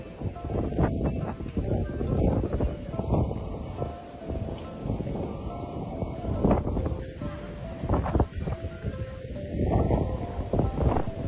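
Cold wind gusting at Tagaytay People's Park overlooking Taal Volcano, heard as a continuous rough rumble buffeting the microphone in uneven surges, loud and close throughout.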